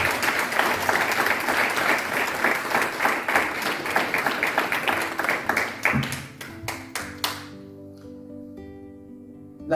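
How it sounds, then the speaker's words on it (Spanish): Church congregation at a Sunday service applauding: loud, steady clapping for about six seconds that thins into a few scattered claps, then stops as sustained tones ring out. "Demos un aplauso al que vive para siempre"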